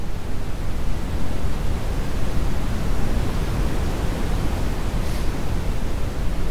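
Steady, dense dark noise from the Airwindows DarkNoise plugin fills the clip as an unbroken, rumbling hiss weighted toward deep lows, constant in level throughout.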